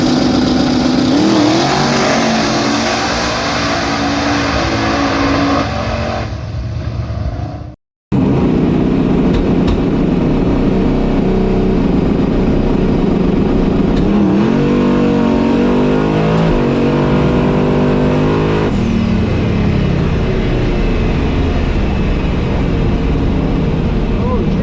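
A turbocharged LS-swapped S10 truck launches and accelerates down a drag strip at a truck racing event, its engine roaring loud and continuous, briefly cutting out before rising again through higher revs.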